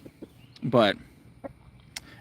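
A loud backyard rooster lets out a single short, harsh crow burst amid quiet surroundings with faint scattered sounds.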